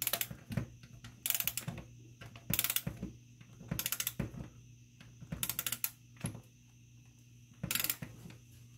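A torque wrench ratchets on the rocker arm bolts of a 1995 Jeep Wrangler YJ with a 2.5-liter four-cylinder engine, giving faint, close bursts of rapid clicking spaced about a second apart.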